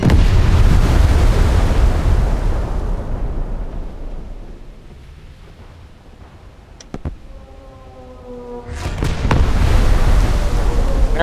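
Heavy naval gun blasts from a World of Warships–style battle with the IJN battleship Kongou, a dense roaring barrage that fades to a lull, then a couple of sharp shots and another loud sustained rumble of fire.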